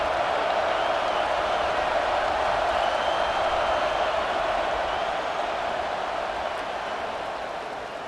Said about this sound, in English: the crowd really making some noise now, trying to help out this defense to get this stop near the goal line